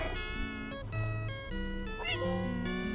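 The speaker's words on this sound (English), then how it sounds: "meowing 100 times" A cat meows repeatedly in the video game Stray, short bright tonal calls, close, over a steady bed of game music.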